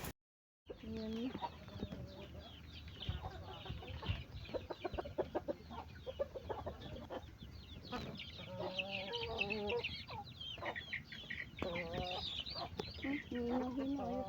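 Pet chickens cluck steadily and close by during feeding, with overlapping hen calls, short squawks and scratching or pecking noises throughout, and a faint voice or two mixed into the flock.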